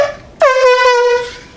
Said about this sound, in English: I've got my air horn on here